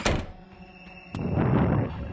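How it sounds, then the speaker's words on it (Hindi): A door in the horror video game Endless Nightmare 1 shuts with a single dull thunk over a low ambient hum, followed by a rising wash of broadband noise. "ये दरवाज़ा"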